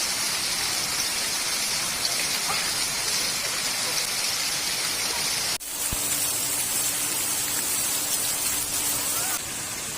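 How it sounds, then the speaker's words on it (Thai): Water from a waterfall feature splashes steadily into a hotel swimming pool, a dense continuous hiss that holds throughout with a sharp shift in texture about halfway through. "มีสระว่ายน้ำก็มีน้ำตกด้วยนะคะ"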